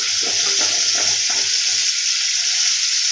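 Grated coconut goes into a pan of sizzling homemade chicken masala, a loud steady fry hiss with a few stirring scrapes in the first half, no talking.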